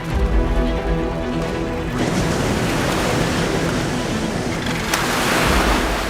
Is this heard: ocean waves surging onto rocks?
yes